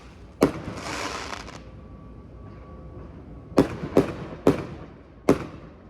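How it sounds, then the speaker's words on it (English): Fireworks set off next door burst in sharp, loud bangs: one early blast with a crackling shower, then a quick cluster of four reports near the end. "now here go these fireworks"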